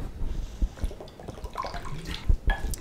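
Water poured into ground spice paste for brinjal curry splashes and trickles in short irregular bursts, with faint clinks from a vessel, close by and moderately loud.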